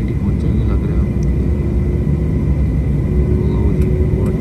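Airliner engines spooling up before takeoff, a continuous low rumbling drone heard from inside the cabin beneath people talking.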